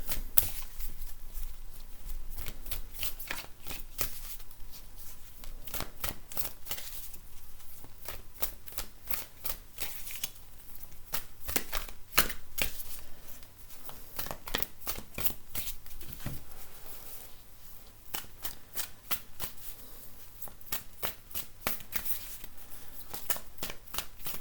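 Healing with the Angels oracle cards are shuffled by hand in a long, continuous stretch of close, soft riffling and flicking with no speech.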